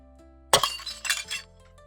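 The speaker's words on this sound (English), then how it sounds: "The bowl fell and shattered into many pieces." A precious ceramic bowl falls and shatters: one sharp, loud crash followed by a short spill of clinking, tinkling fragments that dies away within about a second, heard alone.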